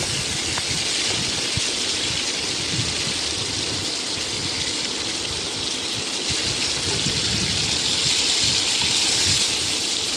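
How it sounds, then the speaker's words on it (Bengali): Shrimp frying in hot oil with a little turmeric and salt, giving a steady, dense sizzle that holds at an even level for the whole stretch, with no talking. "প্রথমে তেলটা গরম করে সাথে সাথে চিংড়ি মাছটা ভেজে নিব।"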